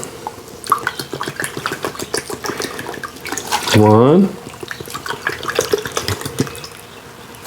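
Two cups of water being poured into a pot for a root beer moonshine recipe, one loud rushing pour of about half a second rising in pitch as it fills, with someone talking before and after.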